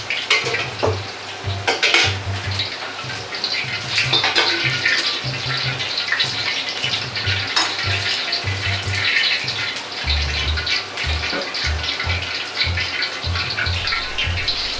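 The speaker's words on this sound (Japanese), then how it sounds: "低めの温度で肉を油の中に入れ、ほぐして火を通します" Pork sizzles and crackles in low-temperature oil in a wok while it is stirred, with steady clatter and scraping from the pan throughout.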